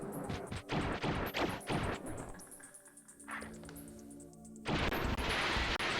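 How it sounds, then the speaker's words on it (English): Explosions and gunfire from the video game O.D.T. on Hard, a rapid cluster of loud bursts, then a quieter lull, then another loud blast near the end. "Those explosions did absolutely fuck all."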